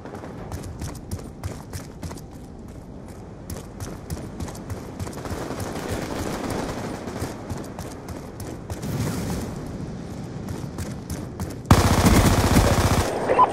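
Rapid MP7 submachine gun fire in a Black Ops 2 free-for-all match on the Carrier map, dense bursts of automatic shots with a loud, harsh burst near the end.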